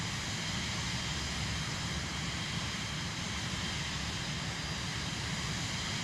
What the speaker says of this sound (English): Oh, no, that's Doomsday plane taking off.